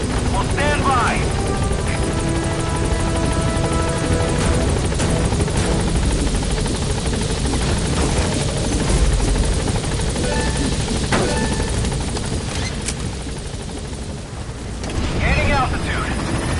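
Pequod, the transport helicopter in Metal Gear Solid V: The Phantom Pain, arriving at a landing zone: a loud continuous rotor roar fills the whole stretch, with radio-style speech cutting in over it.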